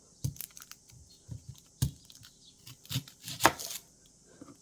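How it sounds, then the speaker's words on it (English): A knife cuts a red onion on a board with a quick run of sharp, close taps, some spaced and some in brief clusters, with no talking. "So we've got the red onion. We're going to cut."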